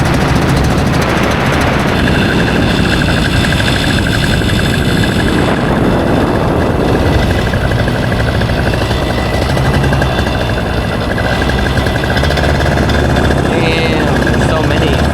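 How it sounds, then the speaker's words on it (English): A helicopter roars continuously and loudly nearby at a paramotor fly-in, its rotor and engine droning steadily throughout. "Helicopter just came in."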